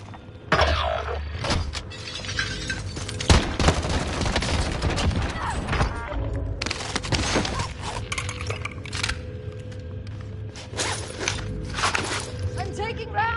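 Gunfire striking the player in a shooter video game, scattered sharp bursts and metallic impacts with footsteps, under frequent talk.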